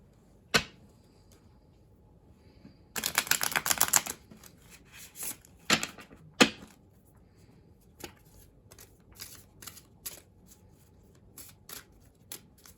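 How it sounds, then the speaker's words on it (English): Quick papery riffling of tarot cards in a short burst, followed by scattered soft taps and flicks of cards being handled, close and fairly quiet. "Give it one more shuffle"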